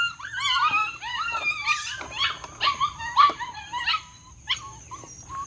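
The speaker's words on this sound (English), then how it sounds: "The puppies are like yippy yappers." Small dogs yapping and whining in high, shrill bursts, several overlapping yips close by, continuing irregularly with brief pauses.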